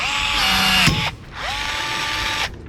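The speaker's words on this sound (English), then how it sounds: "you use your rivet gun or your handheld rivet tool" A rivet gun sets rivets holding retainer springs for Zeus fittings on a RZR 200 roll cage, giving two short, loud, whirring pulls, each ending in an abrupt stop, close up and with no talking.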